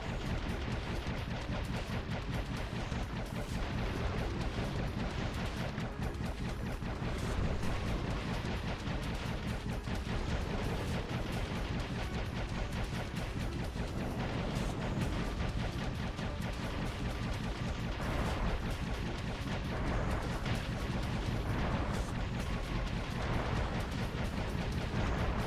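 Gunfire and explosions from a bullet-hell boss fight in Dave the Diver keep up a dense, steady barrage of rapid shots and bursts over game music, with no pauses and no speech.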